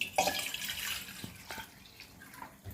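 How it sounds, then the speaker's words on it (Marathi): Water runs and splashes briefly into a cooking pot, a short pouring burst near the start that settles into faint trickling and drips. "2 वाट्या पाणी घालणार आहे."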